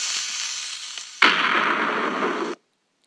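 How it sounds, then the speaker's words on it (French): A sudden blast of crackling noise from a TNT cannon exploding in Minecraft Pocket Edition bursts in, roars steadily for about a second, then cuts off abruptly into silence. "là je vais le faire exploser"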